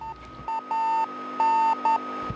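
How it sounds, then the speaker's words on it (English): The radio beacon of a Soyuz spacecraft sends out intermittent electronic beeps of uneven length over a steady hum of radio static, clear and fairly close. "The intermittent beeping that you hear, that's the radio beacon from the Soyuz spacecraft"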